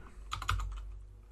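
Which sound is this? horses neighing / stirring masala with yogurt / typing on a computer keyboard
typing on a computer keyboard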